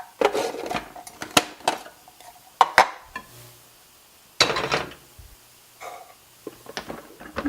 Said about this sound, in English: I'm going to switch blades from the S blade to the shredder blade